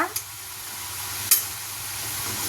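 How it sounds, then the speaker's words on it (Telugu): Steady hiss of plantain slices frying in hot oil, with a couple of brief sharp crackles or clinks against the pan. "ఇప్పుడు ఇందులో ఒక స్పూన్ ఉన్నారా నూనె వేసుకున్నా నేను అరటికాయ ఫ్రై ఇలాగే చేస్తానండి"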